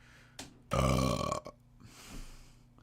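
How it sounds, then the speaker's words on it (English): A single loud, drawn-out burp rumbles close to the microphone in a quiet room, preceded by a small click and followed by faint background murmur. "I burped."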